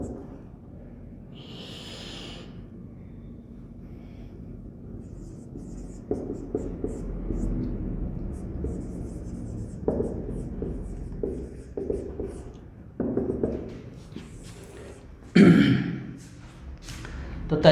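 Chalk or marker scratches and taps across a board during a lecture on inverse trigonometric functions, faint strokes with pauses, rustling and breathing nearby, brief clatter late on.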